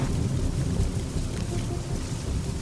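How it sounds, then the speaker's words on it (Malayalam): Heavy rain in the video game GTA San Andreas pours as a constant dense roar with a deep low rumble underneath, steady and loud throughout without speech. "നല്ല മഴയുണ്ട്."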